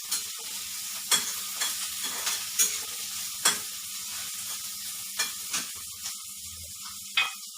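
Onions frying in a pan for bread upma, a steady close sizzle broken by repeated sharp scraping stirs at irregular intervals, with no talk.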